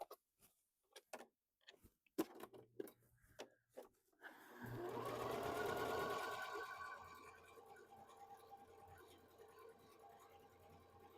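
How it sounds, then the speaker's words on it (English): A Bernina sewing machine in good shape runs nearby, starting with a series of slow, separate ticking clicks that build into a smooth, quiet, continuous hum. "I'm stitching every stitch and it's doing a beautiful job. And it just hums right along."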